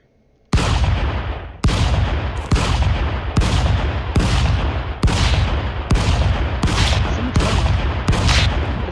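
Heavy gunshots from the video game Stick Fight: The Game, about eight loud, booming single shots fired at a slow, even pace of roughly one per second, each with a long decaying tail, after a brief quiet start.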